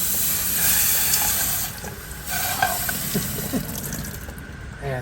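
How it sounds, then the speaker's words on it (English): Red-hot metal, heated past 1600 degrees, plunged into water with a steady hissing sizzle that runs the full length, close and fairly loud, with bubbling crackles throughout. "let's see how it looks getting quenched in the water over here"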